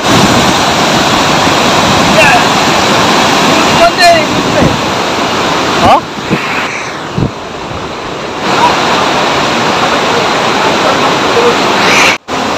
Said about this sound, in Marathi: इकडनं पाण्याचा जो जोरदार प्रवाह आहे